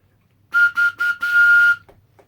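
A homemade whistle carved from a bramble stem gives four shrill, steady blasts in quick succession, the last held longest, loud and close, followed by two faint taps.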